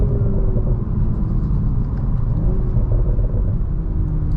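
A BMW Z4 M40i pulls away with a deep, steady engine rumble and road roar heard from inside the cabin, the pitch rising slightly as it gains speed.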